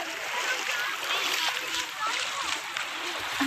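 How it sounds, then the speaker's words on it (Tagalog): Calm sea water splashes and sloshes steadily at a beach in Manaog, Pangasinan, a continuous close wash with a voice talking over it. "andito ako ngayon sa dagat"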